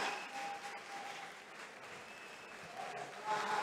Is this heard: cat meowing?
no